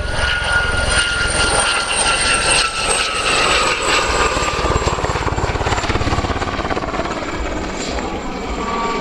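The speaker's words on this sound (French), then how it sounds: "Allez, passage rapide de la gazelle." Gazelle helicopter making a fast low pass at an air show in Cholet, a loud continuous rotor and turbine roar with a rising whine that swells and fades across the pass.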